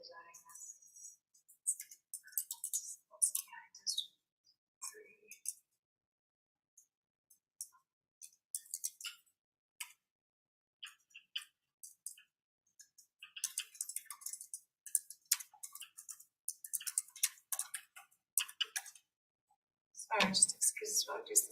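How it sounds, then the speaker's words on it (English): Intermittent clicking of keys on a computer keyboard in a meeting room at a city review board session, quiet bursts of typing with pauses and soft room sounds. "just excuse us while I do some typing and things."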